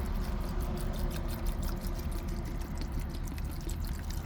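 Water pours steadily into a multicooker pot holding buckwheat, making a continuous, close rushing splash that lasts throughout at an even level, with no voices.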